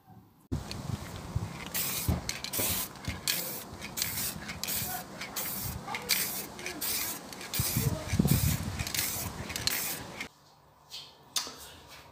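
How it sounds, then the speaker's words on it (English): Repeated bursts of hissing spray from an aerosol can onto wood, several short and long sprays in sequence, close by, ending with a few quiet seconds. "let's spray this down"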